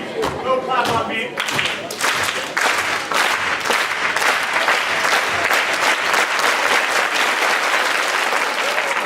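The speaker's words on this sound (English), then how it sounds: "can I get a clap on me? A little clap on me." Middle school audience applauding in a school assembly, dense sustained clapping from many hands filling the room for several seconds, loud and steady with scattered thuds.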